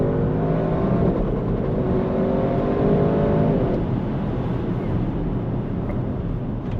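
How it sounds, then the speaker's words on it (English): An Audi RS6 Performance V8 engine revs hard and climbs in pitch, then settles into a steady loud roar, close and continuous without speech. "listen to that V8"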